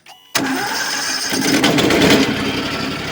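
After a brief quiet moment, the small gas engine of a Turbo Sawmill M12-28A portable sawmill sputters to life and settles into a loud, steady running roar close by.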